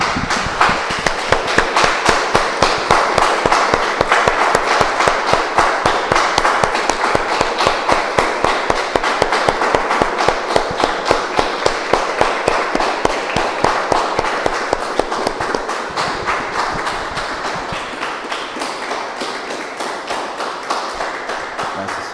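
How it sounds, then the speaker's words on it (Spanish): A church congregation claps in steady unison rhythm, a dense run of sharp, evenly spaced claps that holds strong for a long stretch and then softens slightly toward the end. "Damos un aplauso, hermanos, al Señor."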